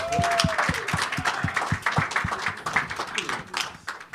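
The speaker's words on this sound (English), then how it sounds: "Let's give him a round of applause, everybody." An audience claps to welcome guests, a fairly close round of applause with distinct individual claps set in a regular rhythm over a light crowd murmur.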